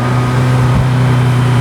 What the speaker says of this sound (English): The engine, it's got a nice fruity sound to it